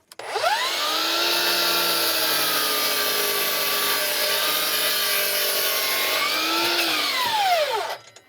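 A power saw rips steadily through a dense fiberglass-reinforced experimental framing board, one continuous loud whining cut of about seven seconds that starts and stops abruptly, with no talking.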